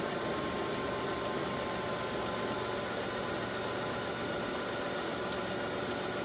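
A 2002 Kia Sedona engine idling with an abnormal noise, a steady close-up drone with a faint ticking texture and no voices.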